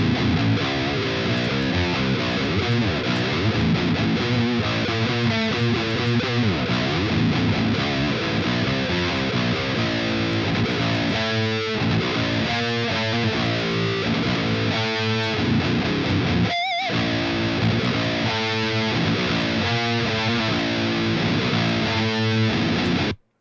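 Heavy, saturated electric guitar tone for a metal mix, played as chugging palm-muted riffs and sustained chords, loud and continuous with a brief pause near the end of the passage.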